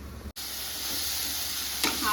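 Food cooking in a covered pan over a low flame gives a steady, soft sizzle close by. There is one brief dropout early on and a light clink near the end, with no talking.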